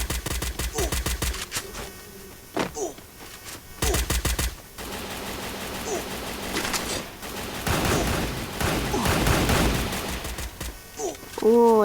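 Rapid bursts of automatic gunfire in the battle-royale game Free Fire, several loud volleys with short gaps between them, mixed with in-game effects and occasional distant shots.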